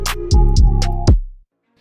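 Trap hook section built in FL Studio: booming kick drum hits with long sub tails under a sustained melodic sample, open hi-hat strokes on top, running about a second and a half before stopping, followed by a faint tick.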